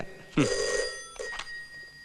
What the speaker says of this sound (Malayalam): ആ ഫോൺ അറ്റൻഡ് ചെയ്യടോ.